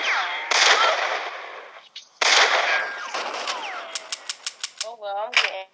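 Rapid gunshots from High Noon 2, a quick run of six or so sharp, evenly spaced cracks after bursts of louder blasts and noise, up close and loud, with a voice speaking over parts of it.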